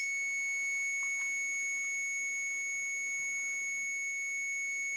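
A continuity tester on a scrap Hoover Junior vacuum gives one steady, unbroken beep that holds at an even, fairly soft level for the whole stretch.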